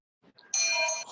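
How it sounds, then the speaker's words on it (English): A bell rings once to open a Rotary Club meeting: a couple of faint taps, then a bright, clear ding that sustains and slowly fades, close and alone with no talking. "Did you hear the bell?"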